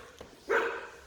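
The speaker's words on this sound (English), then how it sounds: "there's a dog next door" A dog barks next door, one fairly loud bark from outside the garage of a house, heard after a brief faint sound and with no talk.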